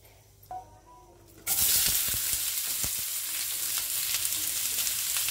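Onions dropped into hot oil with whole spices burst into a sudden loud sizzle after a quiet moment, then keep frying with a steady hiss and a few stirring knocks.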